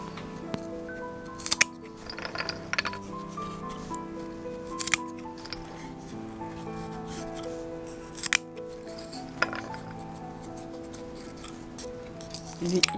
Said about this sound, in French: il n'y a plus qu'à couper la dernière baguette